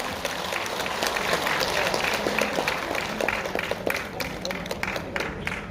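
An audience at a senior welfare centre performance applauds as a harmonica club walks onto the stage. Dense, steady clapping lasts the whole stretch, with some crowd murmur beneath.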